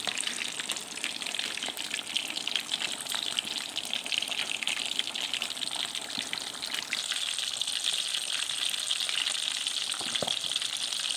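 Fermented fish, pla ra, frying in oil in a pan, giving a continuous, fairly quiet crackling sizzle with scattered pops, steady throughout and heard close up without any talking.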